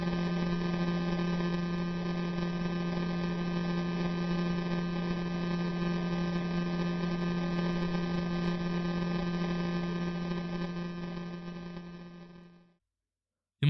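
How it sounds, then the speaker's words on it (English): Radio signal from a pulsating neutron star rendered as sound: a steady, droning buzz with strong harmonic tones, continuous and unchanging for about twelve seconds before cutting off abruptly. "Listen to this recording of a pulsating neutron star."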